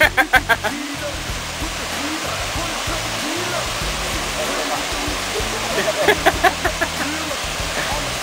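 Garden hose spraying water during an outdoor bath, a steady hissing rush of spray that runs throughout, with brief thumps and splashes near the start and again later.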